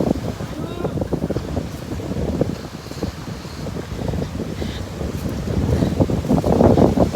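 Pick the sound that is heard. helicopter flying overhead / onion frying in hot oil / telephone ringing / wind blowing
wind blowing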